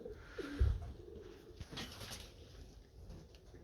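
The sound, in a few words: birds (hens) pecking and calling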